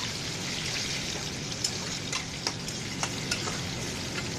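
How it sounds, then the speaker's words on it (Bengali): Potato and pointed gourd pieces frying together in plenty of oil in a kadai give a continuous, even, hissing sizzle with scattered crackles and pops, heard alone without any talk. "মাছে আলু পটল দেবো তাই আলু পটল নিয়ে ভেজে নিচ্ছে"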